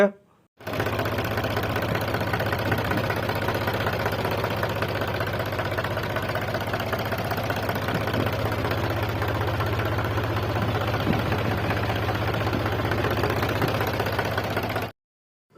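A Mahindra 275 tractor engine idles steadily throughout, a continuous low rumbling drone with a rhythmic knocking texture and no break in level.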